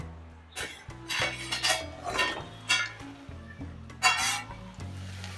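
A spoon scrapes and clinks against a pan while okra sabzi is stirred and mixed, with irregular metallic knocks and scraping strokes over a low hum from the stove.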